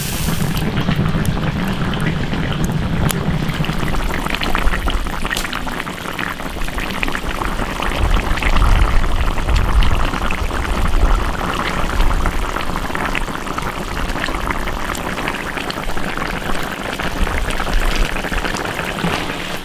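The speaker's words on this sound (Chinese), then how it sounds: "啤酒搞两瓶，再加点水，淹过它就行了" Two bottles of beer and some water pour into an iron wok full of goose and pig's trotters until the meat is covered. A dense, rushing, splashing roar runs steadily and loudly throughout, close by.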